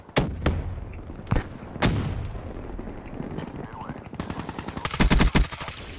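Suppressed gunfire from the Black Ops 3 video game, likely the LCAR-9, with several sharp bursts and single shots scattered across the moment, ending in a dense rapid volley; game ambience fills the gaps.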